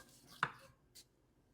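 A knife slices through oven-cooked brisket on a cutting board, giving one sharp, close cut followed by a softer second stroke, with no talking.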